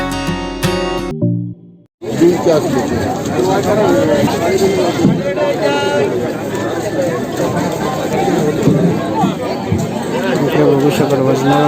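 Crowd chatter at a fish auction on Malvan beach, a busy babble of many voices with shouts and movement, close and continuous after a short burst of music and a brief silence at the start.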